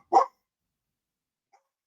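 One sharp, close bark from a dog at home, then near silence with a faint trace of a second sound.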